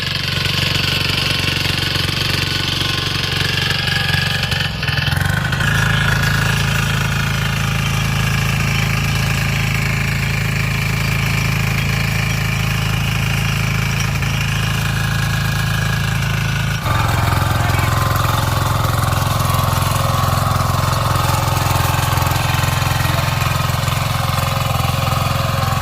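A power weeder's single-piston engine runs loud and steady as it tills barren soil, a close, continuous rough drone with a brief change in load partway through, and no talk over it.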